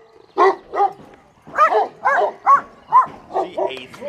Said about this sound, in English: The dog's named Sissy for a reason.